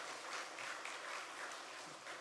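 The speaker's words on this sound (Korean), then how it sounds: "우리 좋은 성가대 허락하신 하나님께 영광의 박수 한번 하겠습니다" A church congregation applauds its choir during an Easter Sunday morning service, a steady, fairly faint patter of many hands clapping with no talking.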